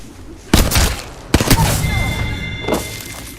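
Explosions in a video game: two loud booming blasts about a second apart with rumbling tails, then a weaker third thud, amid game ambience and faint tones.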